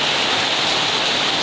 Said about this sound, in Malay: Hujan hari ini sangat deras